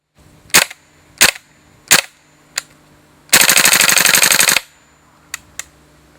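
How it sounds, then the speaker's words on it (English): A VFC G36C gas blowback airsoft rifle running on green gas fires four single sharp shots, then a loud rapid full-auto burst of about a second, then two quicker shots, each with a crisp bolt clack, close up and without talking. "Pull the bolt back again, release it and you're ready to fire."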